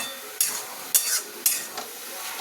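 A spoon scrapes through ash gourd chechki in a pan, three sharp stirring strokes at regular intervals over a soft background sizzle.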